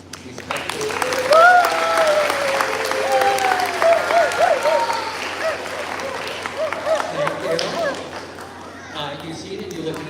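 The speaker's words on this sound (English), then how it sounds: "let's practice that applause for me actually" A school assembly audience bursts into sustained clapping that swells and holds steady, then gradually fades, with a few voices and cheers mixed in.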